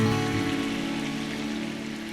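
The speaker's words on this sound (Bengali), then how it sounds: "বৃষ্টি।" Rain falls in a steady, dense hiss with no break, fairly loud and close, with a faint tonal hum beneath it.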